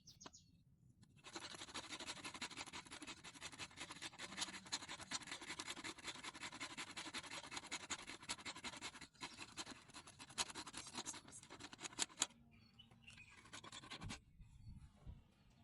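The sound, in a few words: grating cassava roots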